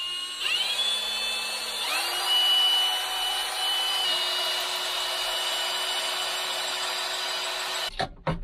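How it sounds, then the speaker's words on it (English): A power drill spins up and bores holes, its motor whine climbing in pitch then holding steady for several seconds with a grinding bite, close and fairly quiet, ending in a few clunks. "So I'm going to drill a couple of holes, or 4 holes."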